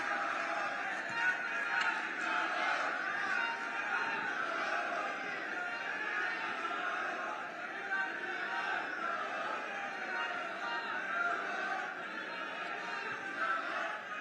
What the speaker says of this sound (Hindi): जोरदार तालियों से अभिनंदन माननीय मुख्यमंत्री राजस्थान श्री भजन लाल शर्मा जी का।